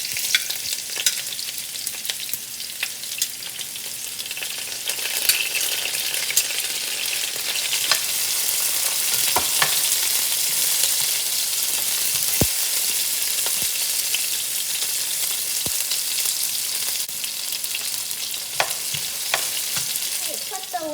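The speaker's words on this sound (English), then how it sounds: "Let it fry for a little bit until it's brown." Onions fry loudly in a pan for mutton biryani, a dense, steady sizzling hiss close by with occasional sharp crackles and pops, continuing without talk for the whole stretch.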